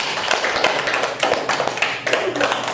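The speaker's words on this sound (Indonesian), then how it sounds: "Kasih tepuk tangan dulu untuk perwakilan kelompok 1" A classroom of students gives dense, rapid applause for the group 1 representative. The clapping is close and loud and goes on without a break for the whole stretch.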